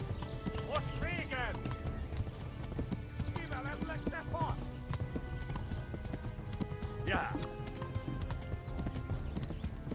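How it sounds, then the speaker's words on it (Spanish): Horse hooves clip-clop at a steady gallop in a medieval video game, with whinnies rising above a dense bed of game music and ambience while someone talks excitedly over it. "Y el caballo se me cansa también"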